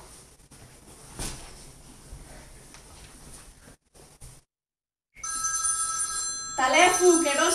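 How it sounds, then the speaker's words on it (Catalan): An indoor telephone starts ringing with a bright electronic tone after a brief silence. The repeated rings grow louder and busier toward the end, following a stretch of quiet room sound with some speech before it. "Telèfon, que no el sentiu?"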